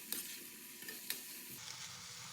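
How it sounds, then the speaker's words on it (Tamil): Chopped carrot being stirred into tomato masala pasta in a pan, faint scraping strokes over a low steady sizzle. "அதையும் இதோடு சேர்த்து கிளறி விட்டுக்கலாம்."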